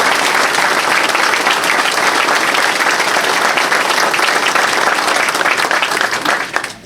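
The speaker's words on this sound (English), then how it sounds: "Let's give him a round of applause." Sustained applause from a room of supporters at a congressional campaign kickoff, dense loud clapping held evenly for several seconds before tapering off at the end.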